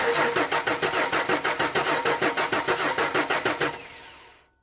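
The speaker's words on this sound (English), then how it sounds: "So let's turn the motor over and see if we get any coil control." A 1994 Ford F150 with a 4.9L inline-six with no spark cranks over steadily on the starter in a fast, even chugging rhythm for several seconds without catching, then spins down and stops.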